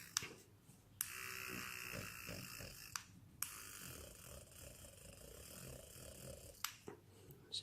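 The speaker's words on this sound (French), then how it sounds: "Oui, c'est la gomme électrique." A small battery-powered electric eraser buzzes steadily on a colored pencil drawing of a face done in Prismacolor pencils, starting and stopping several times with brief gaps and clicks between bursts, close and fairly quiet.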